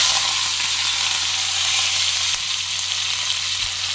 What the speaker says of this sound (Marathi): आणि हे कढीपत्ता आणि एक मिरच्या कापून घेतलेल्या आहेत, त्या पण ह्याच्यात टाकणार आहोत फोडणीला.